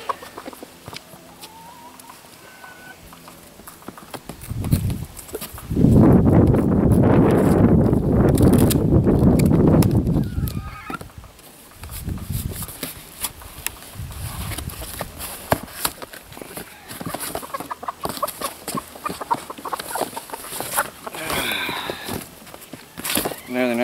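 A mixed flock of chickens on an off-grid homestead clucks and calls throughout, close to the mic, with a loud, dense flurry of noise midway before settling back to scattered clucking.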